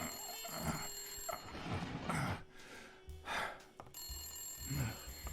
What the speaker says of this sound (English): What a time for the phone to start ringing